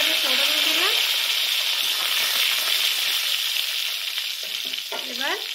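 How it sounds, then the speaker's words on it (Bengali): Mustard seeds and bhusanga leaves hitting hot oil for a Bengali tempering, a loud continuous hissing sizzle, close by, with brief spoken remarks near the start and end. "ভুষঙ্গ পাতা আর সর্ষেকে ফোড়নে দিলাম।"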